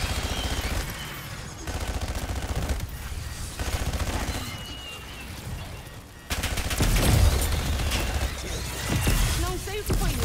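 Sentry turret in Call of Duty: Black Ops 6 Zombies firing sustained automatic bursts amid game music and effects, with a louder stretch of rapid fire near the end and voices talking over it.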